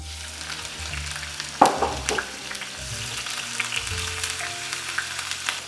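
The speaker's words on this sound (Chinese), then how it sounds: "锅的温度已经达到180度了，咱们赶紧倒油，放虾" Shrimp hit hot oil in a pan heated to 180 degrees, bursting into a loud sizzle that settles into a steady, close frying crackle with light stirring.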